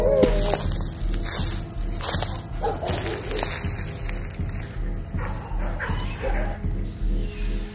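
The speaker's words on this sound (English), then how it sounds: "Other dogs barking." Dogs bark repeatedly in woods, a loud series of barks and yips over a steady background hum from an outdoor setting, with no one talking.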